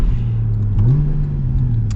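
Porsche 981 Boxster S flat-six engine pulling under acceleration, with a steady mid-pitched drone that briefly dips and rises again as a gear shift goes through, loud and close for the whole stretch.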